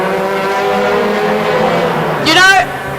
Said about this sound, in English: now coming to start the final lap, can Van der Vaart hang on for one more?